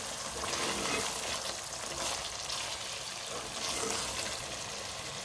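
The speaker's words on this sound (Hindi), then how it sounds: "मिक्स करेंगे इसको।" Beef pasanda mixture stirred in a hot pan, steady sizzling and frying with wet scraping swells as the spoon moves through, close and continuous, no voices.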